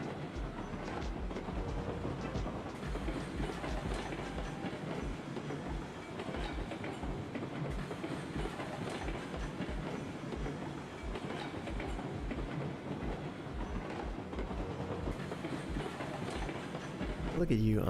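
Railroad video game train rolling steadily along the rails with a continuous rumble and clatter throughout, voices talking over it.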